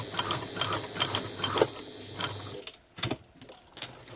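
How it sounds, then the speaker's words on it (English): A sewing machine stitches close to the edge of a raw-edged zipper pouch in short bursts of rapid mechanical clatter with brief pauses, near and moderately quiet. "I'm stitching close to the edge, round about 2 millimeters or 1/16 of an inch, 1/8 of an inch."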